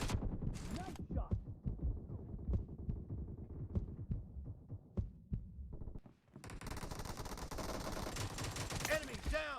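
Rapid bursts of gunfire in a shooting video game, continuous popping shots and thuds with a denser barrage near the end, heard close with voices calling out in the background.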